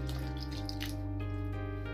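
Lukewarm water pours into wheat flour for dough, heard as a close, steady trickle with a faint pitched ring, continuous over the whole stretch with no talking.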